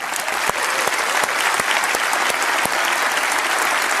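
Steady applause from a large congregation at a Christian worship service, dense clapping filling the space evenly throughout with a few sharper individual claps standing out.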